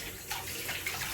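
Tap water runs steadily into a kitchen sink while dishes are washed, a continuous close hiss with faint splashing changes and no talk.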